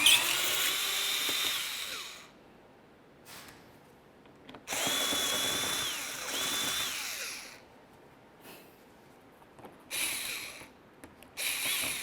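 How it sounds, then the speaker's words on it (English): A power drill spins out 7mm-headed screws from the bumper cover of a 2005-2010 Chevrolet Cobalt, with two long whirring runs and a few shorter bursts separated by quiet gaps. "we're going to start removing two 7mm headed screws and then one push clip from each side of the bumper cover"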